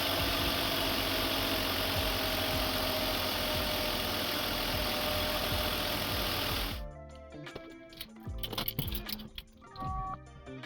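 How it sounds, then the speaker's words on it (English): A BMW 7 Series E38 728i with the M52 engine idles after a long-cranking fault was repaired, a loud steady running hum that abruptly drops away partway through, leaving quieter intermittent knocks and clicks. "Engine needed a minute afterwards until the engine would run smooth again."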